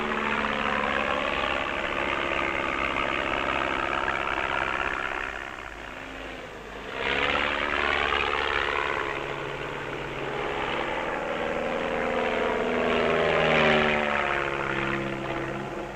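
Aerobatic propeller plane at an air show in Saint-Yan, 1964, sweeping low over the runway: a loud, sustained engine drone that rises and falls in pitch as the aircraft passes close, dips briefly, then returns.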